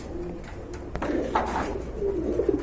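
Pigeons coo softly at a pigeon seller's stall, several low murmuring calls rising and overlapping against a steady background hum, with a brief sharp knock partway through.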